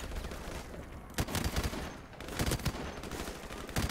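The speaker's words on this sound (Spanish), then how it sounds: "¡Abran fuego!" Dense automatic gunfire and bursts of shooting in the video game Call of Duty 4 Modern Warfare, loud and continuous with sharp cracks standing out over a battle din.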